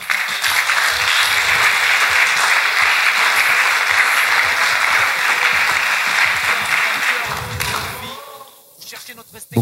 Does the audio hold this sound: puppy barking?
no